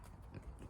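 Horse hooves step off at a walk on command, giving a few soft, faint clip-clops in a very brief moment.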